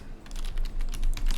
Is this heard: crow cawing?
no